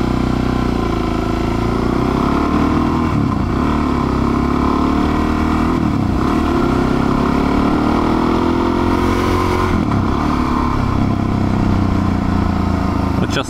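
A motorcycle rides along a road in winter in Japan, its engine droning loudly and continuously up close with rising and falling revs and heavy wind rush, while someone speaks at times underneath.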